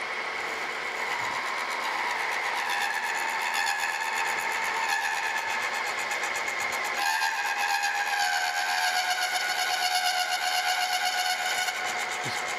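Steady high-pitched chatter from a lathe cutting a new arbor for a General Model 350 table saw, with cutting oil on the overhanging workpiece, a continuous ringing whine with a shift in tone partway through.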